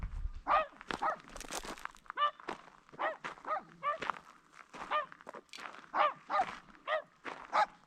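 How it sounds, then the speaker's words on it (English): Dogs bark repeatedly at close range outdoors, their sharp calls coming in an irregular series while they sniff about on rough ground. "The dogs think they found a lizard to play with."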